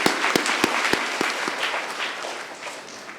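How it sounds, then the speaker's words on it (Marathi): A church congregation claps to welcome guests at Mass during a feast novena, with a few sharp early claps swelling into steady, fairly close applause that slowly fades. "तसेच आजच्या मिसासाठी आलेले आपले सगळे पाहुणे मंडळी त्यांचं देखील आपण टाळ्या वाजवून स्वागत करूया"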